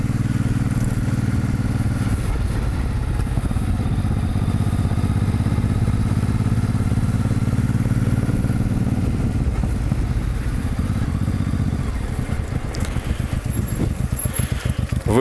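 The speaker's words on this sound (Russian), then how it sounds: "ребят, которые ездят на мотоциклах с колясками." Motorcycles with sidecars run with a loud, steady mid-pitched engine drone up close, turning to a rough, clattering putter near the end.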